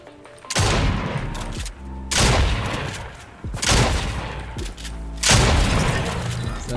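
Heavy gunshots blast in Fortnite Chapter 3, four loud booming reports spaced about 1.5 seconds apart, each followed by a long echoing tail.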